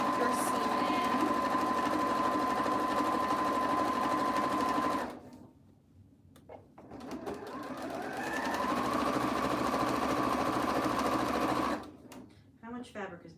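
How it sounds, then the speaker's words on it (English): A domestic sewing machine back-stitching a fabric seam on a surgical scrub cap, with a loud, close, steady whirring hum. It stops briefly, restarts and runs again before cutting off, while someone talks over parts of it. "back stitching at the beginning just to lock your seam in"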